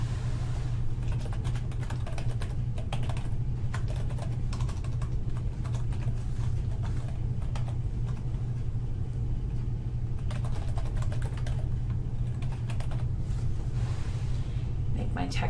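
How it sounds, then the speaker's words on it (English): Computer keyboard typing in rapid, irregular bursts of light clicks, steady and fairly close over a constant low hum throughout. "and now I can type in my text"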